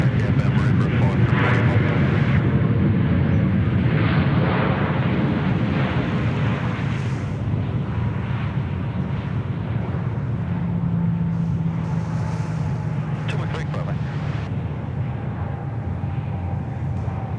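An airliner arriving at Sydney Airport gives a steady, broad roar mixed with wind on the microphone, while someone talks over it throughout.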